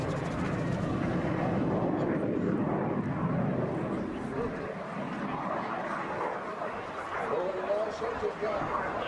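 Jet Provost training jet engine at the Dunsfold Wings and Wheels 2014 airshow, a steady broad roar that holds loud throughout and eases slightly midway, with a commentator talking over it.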